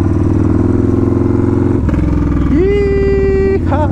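A Yamaha Warrior 1700 motorcycle is underway, its loud engine droning close by with a shift in pitch partway through, as wind and road noise blend in.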